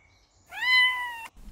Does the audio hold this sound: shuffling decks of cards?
no